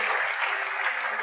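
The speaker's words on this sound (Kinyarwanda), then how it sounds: "twese dukoma amashyi menshi" Dense, steady applause from a wedding audience fills the whole moment, a continuous wash of many hands clapping close by with no voices standing out.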